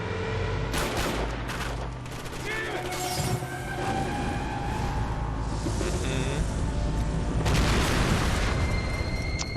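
Repeated heavy booms and bursts of gunfire-like blasts in Max Payne 3, loud and chaotic, layered one over another throughout, with game-style explosions and no clear speech.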